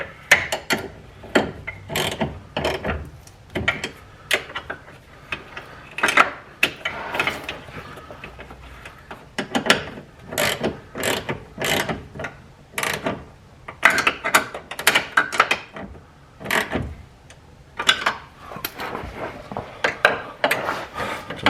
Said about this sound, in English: I'm going to start tying them down, which both ties are 13, and the nut in the back is also 13.